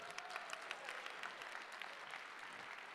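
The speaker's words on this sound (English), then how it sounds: "Yes, give them a round of applause." A school band concert audience applauds the winter concert band, a steady patter of clapping heard from a distance, fairly faint, with no talk.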